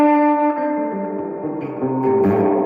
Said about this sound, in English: Go like crazy with the reverb, it sounds like this.